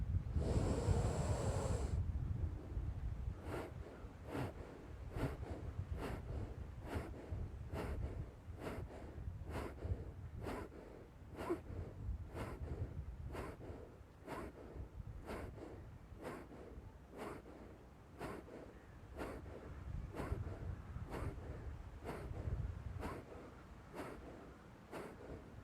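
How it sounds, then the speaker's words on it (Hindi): Forceful nasal exhalations of kapalbhati pranayama breathing, a steady rhythm of short sharp puffs at about one per second, close and fairly loud over a constant breathy wind-like background. "आइए देखते हैं कपालभाति।"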